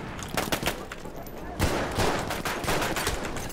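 Video game Battlefield 1 gunfire rattles in rapid overlapping bursts, loud and close, with a heavier blast midway and dense shooting continuing after, with game noise in the mix.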